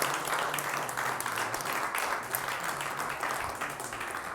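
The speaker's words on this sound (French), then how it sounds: "on peut vous applaudir pendant que vous rejoignez" A studio audience claps steadily for departing guests on a French television show, dense even applause lasting the whole moment at moderate level.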